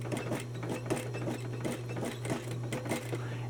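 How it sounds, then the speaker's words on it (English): A sewing machine stitches along a shirt cuff edge, its quiet rhythmic needle clatter running steadily over a low motor hum. "So I'm going to go ahead and follow the edge."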